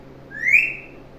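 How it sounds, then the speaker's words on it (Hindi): A pet parrot whistles a single short rising note, close and clear, against a faint hum of room noise. "ओए सीटी बजाता है स्वीटी।"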